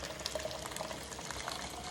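Water pours into a pot of chopped leek and potato for soup, giving a steady, soft, even rush with no voices.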